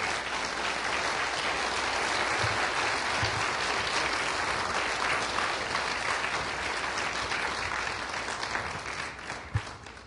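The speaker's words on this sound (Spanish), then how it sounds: "¿Puedes darle un fuerte aplauso de alabanza a Él?" A church congregation claps in sustained, even applause throughout, a dense wash of many hands at moderate distance, with a few sharper claps standing out near the end.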